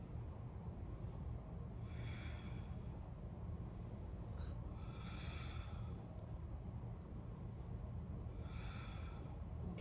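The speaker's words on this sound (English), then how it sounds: "Take 5 breaths here." Slow, deep breaths during a seated yoga stretch, three soft airy exhalations spaced a few seconds apart over a steady low background hum, with no talking.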